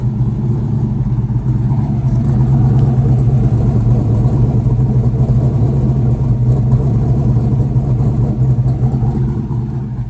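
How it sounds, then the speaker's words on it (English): A 1989 Mustang GT V8 with an F-cam, Borla exhaust and X-pipe idles close and loud, a deep throbbing burble with a faint uneven surge, running continuously without talk. "it's got that Mustang sound, you know, that iconic Mustang sound"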